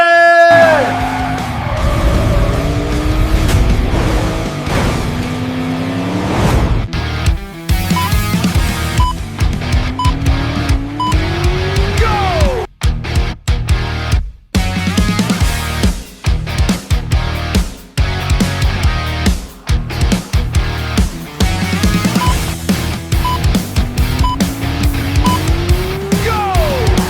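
Race car engine sounds play from a Hot Wheels race track: loud, revving engine whines with rising and falling pitch sweeps, squealing tire-like bursts and a few abrupt cut-outs throughout.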